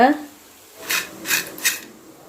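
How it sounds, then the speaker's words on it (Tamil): Boondi batter rubbed through a spinach-cleaning sieve, three short raspy scraping strokes, close and moderately loud, after a brief voice at the start. "இது மாதிரி கீரை க்ளீன் பண்ணுற சல்லடையில் கூட தேய்ச்சி விழ வச்சு சுடலாங்க"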